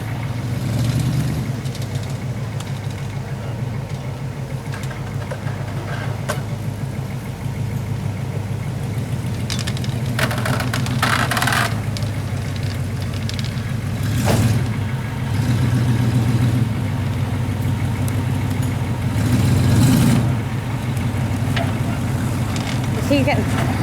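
A tow truck's engine runs steadily and rises into heavier revs as it pulls a wheelie up a hill. The rumble stays loud and continuous, with people talking over it.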